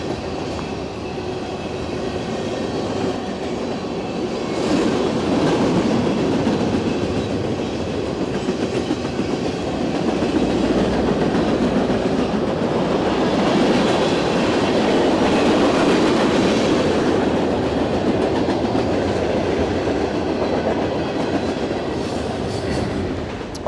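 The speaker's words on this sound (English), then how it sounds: "right now the GO train is loading up." A GO commuter train rolls past on the railway track, a steady loud rumble with clickety-clack wheel rhythm and faint squeal building and fading over about twenty seconds, with no talking.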